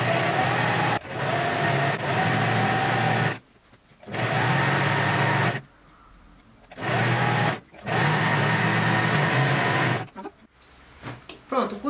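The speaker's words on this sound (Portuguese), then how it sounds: "Agora a gente vai passar a costura aqui, né, pra juntar a parte de baixo com a parte de cima" A sewing machine runs a seam joining the lower and upper parts of a priest-style collar, whirring loudly and close in several long, steady bursts separated by brief stops.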